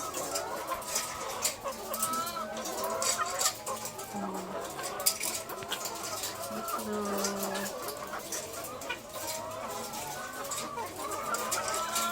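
Chickens in a backyard coop cluck and coo close by, with repeated short calls and bird chatter scattered across the clip over a busy outdoor background.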